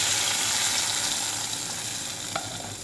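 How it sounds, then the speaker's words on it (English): Chopped garlic, three or four cloves, sizzles steadily in hot fat for an okra stew with meat, a continuous bright crackling hiss with a faint clink near the end and no talking. "Fry the garlic, then add it over the stew."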